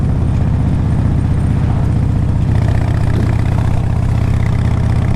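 A 2004 Harley-Davidson Road King Custom rumbles steadily while being ridden, its loud, low, pulsing V-twin engine note holding a continuous rhythm throughout with faint wind noise.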